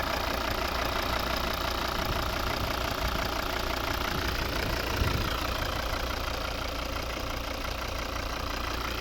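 2013 Volvo V60 D4 with a 2.0 diesel engine and automatic gearbox idling, a steady, even low rumble with a faint clatter, constant and close, no voices.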